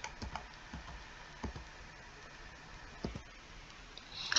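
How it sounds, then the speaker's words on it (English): Keys on a computer keyboard being typed in short irregular bursts, close and fairly quiet, with a few distinct louder taps spaced through the clip. "begin typing their name and choose the correct result that appears"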